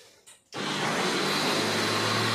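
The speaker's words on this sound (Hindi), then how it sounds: "चीनी मैंने डाली है इसमें ब्लेंडर जग में और मैं ब्लेंड कर लेती हूँ" A blender jug whirs to life, blending sugar in a home kitchen while an egg halwa dessert is being made. After a brief quiet start, the motor switches on and holds a loud, steady roar to the end.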